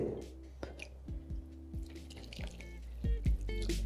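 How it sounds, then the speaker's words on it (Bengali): Two cups of water poured onto soaked sago in a kitchen bowl, giving soft uneven splashes and drips with a wet, squishy texture, quiet and close, without talk. "আমি এই কাপেরই মেজারমেন্টে 2 কাপ এখানে সাবু নিয়ে নিয়েছিলাম, তাই এখানে দিয়ে দিলাম 2 কাপ জল।"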